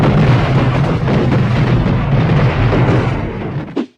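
A loud, rumbling explosion from the movie Child's Play with a heavy low boom that rolls on for a few seconds, then cuts off abruptly.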